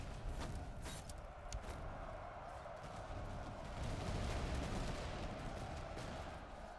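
Artillery cannons fire across a battlefield in Master of Command, a dense, continuous rumble of distant booms and crackling volleys with several sharper reports early on.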